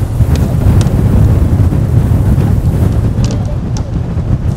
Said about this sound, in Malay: Wah, angin sangat kuat.